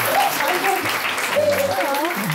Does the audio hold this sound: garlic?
no